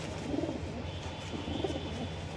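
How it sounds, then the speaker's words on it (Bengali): Soft, low cooing from a Pakistani highflyer pigeon, a few murmured coos rising and falling close by over a steady background hum, with no voices. "পুরো এক পাত্তা লেজের পায়রা দেখুন বাচ্চাটা এত ছোট বাচ্চা"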